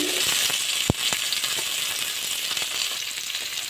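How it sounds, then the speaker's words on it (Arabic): Onion sautéing in fat in a pot for crab soup, a loud, continuous sizzle with a sharp clink of a utensil and faint stirring scrapes. "انزل بالبصلة تتشوح تشويحتين"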